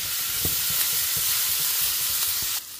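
Onion, salt and chilli flakes frying in a pan with garlic give a steady close sizzle with a few soft stirring knocks, cutting off near the end.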